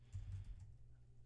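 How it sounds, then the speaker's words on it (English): Brief keyboard typing while an email address is entered into a FortiAuthenticator setup form, a few soft, quiet keystrokes close to the mic against a low background hum. "So I'll type in"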